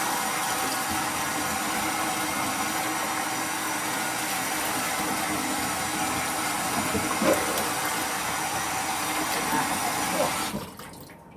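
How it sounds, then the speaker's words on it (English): Running tap water gushes steadily over a raw Thanksgiving turkey being rinsed, a loud, continuous splashing hiss that cuts off abruptly at the end. "You're going to rinse your bird out and get all that stuff out of there."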